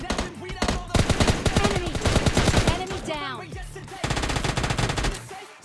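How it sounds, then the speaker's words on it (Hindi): Rapid automatic gunfire rattles through a battle royale shooter game in repeated bursts, with a few sharp single shots and short pauses between volleys, loud and close. "अब यहाँ पर नीचे फायरिंग की आवाज़ आ रही थी"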